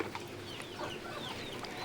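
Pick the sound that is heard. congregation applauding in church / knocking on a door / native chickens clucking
native chickens clucking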